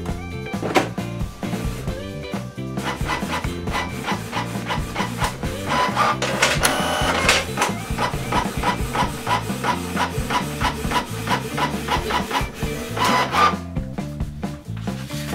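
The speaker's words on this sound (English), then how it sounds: "Let's print network information again." Canon PIXMA TS3400-series inkjet printer printing a network information page, with repeated mechanical whirring and scraping as the print head sweeps back and forth, paper-feed rubbing, and short clicks heard close up.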